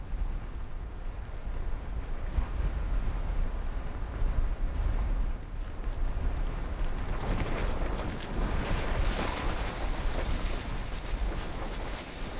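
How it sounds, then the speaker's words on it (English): Strong, steady wind roars across the high slopes of Mount McKinley, a dense continuous rush that buffets the microphone, with gusts swelling louder toward the middle. "Wind speeds exceeding 20 meters per second prevent the team from climbing."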